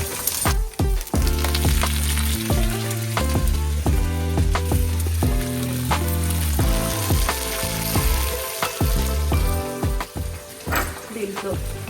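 Curry leaves and three or four green chillies crackle in hot oil for a traditional festive dish, a steady sizzle running under loud, continuous background music.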